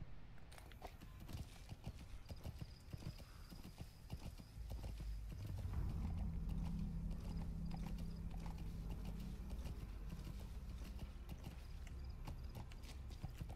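Horse hooves clip-clop steadily in Metal Gear Solid V: The Phantom Pain, a quiet, even gait that continues under a low rumbling game ambience with occasional mechanical clicks.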